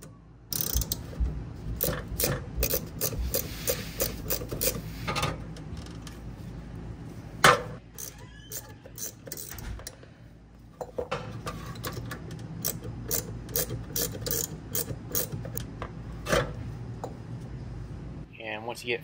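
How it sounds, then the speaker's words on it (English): A wrench turning a nut on the shift rod of a VW MK1 Rabbit GTI with an 020 transmission, giving rapid ratchet clicks in bursts with short pauses, close up and fairly loud, with no talking. "I found that getting it started with a wrench helped get it through the bracket."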